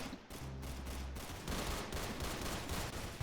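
Old-style gun firing in a Roblox shooting game, heard as dense, rapid gunfire bursts that run almost continuously, loud and close, with no talking.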